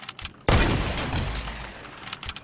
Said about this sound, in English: caught him off guard and sniped him in the face